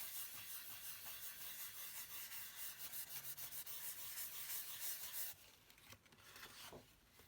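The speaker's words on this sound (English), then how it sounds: "you can rub it off where the foiling is" Foil being rubbed off a handmade card, a steady soft scratchy rubbing that runs continuously and fairly close, then thins out into lighter intermittent strokes near the end.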